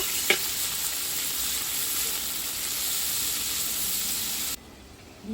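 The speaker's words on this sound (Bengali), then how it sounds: "তিনখানা পেঁয়াজ ছিল কেটে নিয়েছিলাম সেটা দিয়ে দিয়েছি হালকা করে ভাজা ভাজা করে নেব" Sliced onions frying lightly in a pan: a steady, close sizzle, bright continuous hiss with a brief clink near the start, cutting off abruptly near the end.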